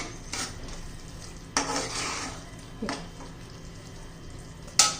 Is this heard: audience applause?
no